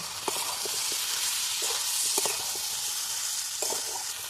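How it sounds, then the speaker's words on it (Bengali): A spice mix of turmeric, cumin, a little coriander and sugar is sautéed in a pan. A steady sizzle runs under repeated scraping stirs that come in small clusters. "এবার আমি ভালো করে এটা কষে নেব"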